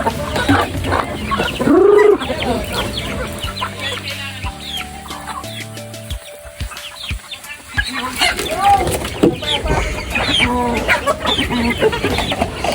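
Backyard chickens cluck and squawk loudly and continuously, with a rooster-like call near the start, mixed with ducks in a crowded neighborhood flock; the sound is close and busy throughout.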